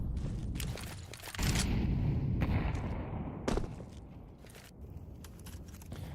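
A grenade detonates in Counter-Strike 2 on a palace map during a match, a heavy boom with a sustained rumble, surrounded by sharp gunshot cracks and footsteps, no talking over it.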